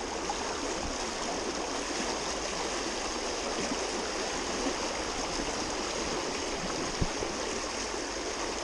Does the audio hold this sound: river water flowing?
yes